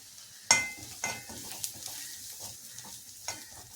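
Chili powder fries in hot oil in a pan while a spoon stirs it, giving a soft continuous sizzle broken by a few sharp scrapes and clinks, close and fairly quiet.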